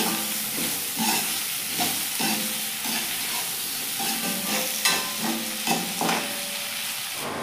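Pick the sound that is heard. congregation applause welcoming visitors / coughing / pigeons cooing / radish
radish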